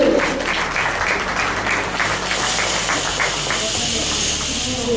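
An audience of parents applauds after a children's school show, giving a steady, dense burst of clapping that fills the room and continues without a break.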